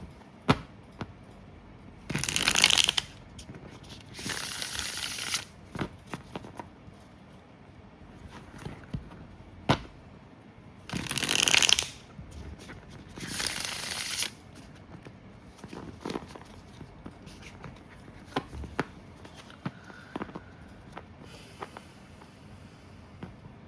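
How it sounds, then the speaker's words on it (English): A deck of tarot cards is riffled in quick bursts, two pairs of short crisp ripples separated by quieter handling and soft taps, fairly close. "shuffle a few times, riffle a few times,"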